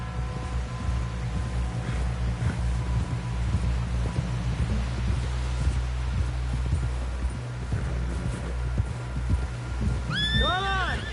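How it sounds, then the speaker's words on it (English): A horse whinnies near the end with a rising, wavering call, over steady hoof clatter and low rumbling background noise, in Red Dead Redemption 2. "Someone help John down off this horse."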